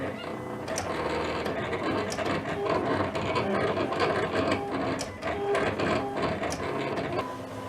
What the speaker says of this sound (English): you're going to send it to Silhouette, and it's going to cut